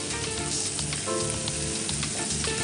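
Peas sizzling loudly in a hot pan with a dense, steady frying crackle, stirred with a spoon in scraping strokes.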